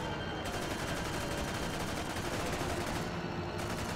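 Rapid, sustained gunfire from the video game Toy Soldiers, aimed at a zeppelin in the sky. A dense, continuous stream of shots runs loud and steady throughout, with no talk.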